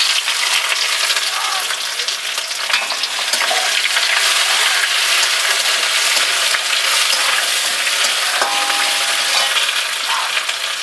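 Onion fries in a pan with bay leaf for a village-style jackfruit curry, giving a loud, steady, close sizzle that runs unbroken throughout, with faint clinks and stirring underneath.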